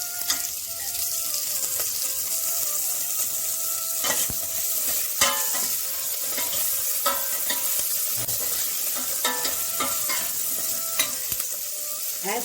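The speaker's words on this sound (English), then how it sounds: "You are seeing now the garlic has fried. Now add the onion." Garlic and onion with rock salt and curry leaves frying in a pan for a one-pot spinach gravy, a steady close sizzle with scattered crackles and occasional stirring scrapes throughout, no voices.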